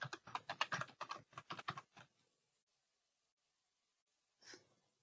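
Keys typed on a computer keyboard as a contributor name is entered, a quick rhythmic burst of close, crisp clicks lasting about two seconds, then quiet and one last isolated tap.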